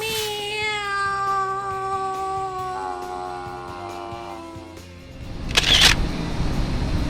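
A cat gives a few long, drawn-out meows in a rural Thai setting, loud and close, with a steady low hum underneath. A sharp, brief burst of noise follows near the end.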